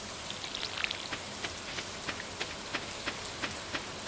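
Steady rain falls in the farming video game Stardew Valley, a soft, even hiss with faint regular ticks and patters running through it, moderately quiet and without voices.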